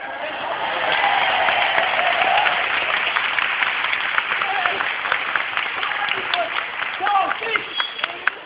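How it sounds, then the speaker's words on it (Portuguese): Audience applause at a clown show in a cultural centre in Rio Claro, a sustained, dense burst of clapping from a crowd, steady and fairly close, with scattered louder claps toward the end. "Esses aplausos são pro senhor!"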